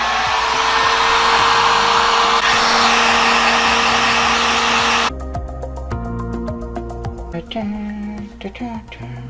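A heat gun or hot air blower roars loudly and steadily while heating a cosplay goggles prop to bend it, then cuts off halfway, leaving clattering and handling noises with people talking.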